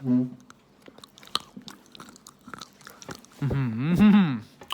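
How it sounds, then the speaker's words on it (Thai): Someone bites into a bar of 100% dark chocolate, giving a few sharp crunchy snaps followed by close chewing, with a person talking and humming around it. "นี่กัดกัดเสียงดังๆเลย"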